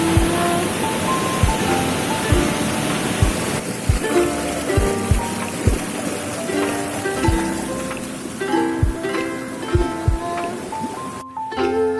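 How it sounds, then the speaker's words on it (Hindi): A waterfall beside the Bhimashankar temple in Assam, a loud, continuous rushing roar close by, with scattered knocks and brief tones sounding over it. "झरने की आवाज़ तो सुन ही रहे हैं आप लोग।"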